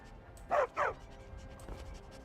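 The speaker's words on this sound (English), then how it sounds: "How come I got both dogs with me?" Dogs in the video game Skyrim give two quick, close barks in succession, followed by faint yips and snuffling over low background ambience.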